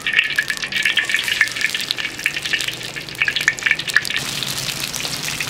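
Shrimp sizzle and crackle in hot oil in a wok, a dense, steady frying hiss with bursts of popping throughout, close and fairly loud, with no talking.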